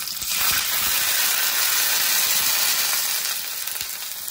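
A steady, loud sizzle and hiss as half a bowl of water hits a hot oil tempering for dhokla, continuous and close, with faint stirring clicks.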